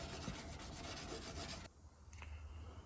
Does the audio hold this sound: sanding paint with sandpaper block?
yes